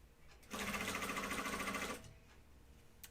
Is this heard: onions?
no